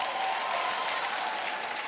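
An audience claps steadily and evenly for a couple of seconds, a dense moderate wash of hands with no voices rising above it.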